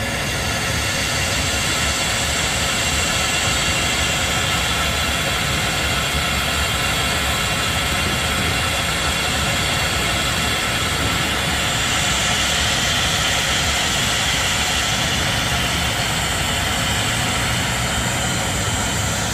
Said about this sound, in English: This train backed into here. It was not going forward.